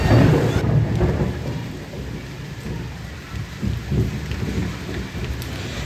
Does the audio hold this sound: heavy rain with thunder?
yes